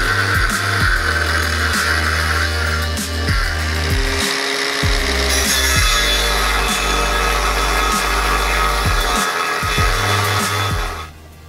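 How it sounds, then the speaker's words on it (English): A 5-inch angle grinder cuts 8mm scrap sheet metal for a supercharger mounting bracket. It gives a loud, steady whine that runs for about eleven seconds with brief dips where the cut eases off, then stops abruptly. "I get the old 5-inch angle grinder out for some punishment"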